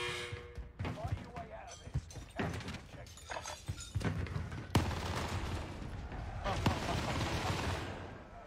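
Machine gun fire in an online shooter video game, bursts of rapid shots and heavy impacts over a dense, busy battle backdrop, with someone talking over the mix.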